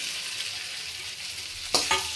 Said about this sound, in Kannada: ಕಟ್ ಮಾಡಿ ಇಟ್ಕೊಂಡಿರುವ ಬೆಂಡೆಕಾಯಿ ಆ್ಯಡ್ ಮಾಡ್ತಾ ಇದ್ದೀನಿ